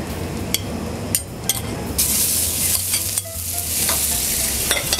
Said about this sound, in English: We're just going to get a really good nice sear on this and stir it